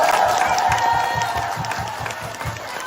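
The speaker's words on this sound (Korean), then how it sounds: "다 같이 한번 크게 박수 주세요" Rhythmic collective clapping from a crowd at a Busan book concert, the beats falling in unison at a brisk, even pace under a murmur of voices.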